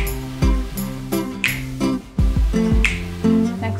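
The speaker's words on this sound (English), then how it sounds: "You could also snap." Sharp finger snaps ring out in a steady rhythm, roughly two per second, over upbeat music during a dance fitness cardio workout, close and distinct.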